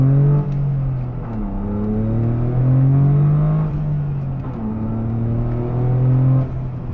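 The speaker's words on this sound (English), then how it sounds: "And the exhaust sounds great. It's a very smooth tone." A tuned Toyota GR Corolla with an aftermarket exhaust revs on a dyno, its smooth engine tone climbing in pitch through repeated sweeping pulls, loud and close.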